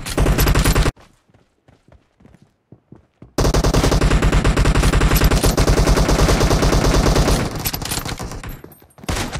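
Kar98 rifle fire in the mobile shooter PUBG Mobile comes as loud, dense bursts of shots, then a sparse stretch of scattered single cracks, then another long rapid volley, with no speech.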